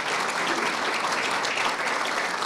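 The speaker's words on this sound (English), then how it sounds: "you can applaud if you want" An audience applauds at a St Patrick's Day event with the Irish prime minister, dense steady clapping filling the room without a break.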